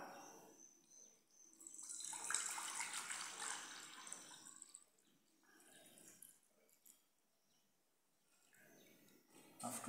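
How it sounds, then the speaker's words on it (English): Cold water is poured from a container into a petri dish while preparing oxygen. A steady trickling pour swells for a few seconds, then thins into softer intermittent splashes and drips, fairly close and alone. "I have to fill this petri dish with water, cold water."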